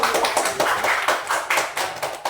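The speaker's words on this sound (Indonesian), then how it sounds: "Berikan aplaus" Schoolchildren clap in a classroom, a close, rhythmic burst of repeated hand claps that keeps a steady beat throughout.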